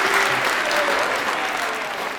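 A seated audience at a Hindi comic poetry show claps in a dense, steady burst of applause that holds at an even level and fades slightly near the end.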